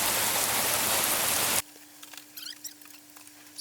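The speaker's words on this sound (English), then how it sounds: "it started hailing and raining" Rain and hail falling, heard as a loud, dense hiss of pattering impacts for about a second and a half before it cuts off abruptly into near silence with a faint steady hum.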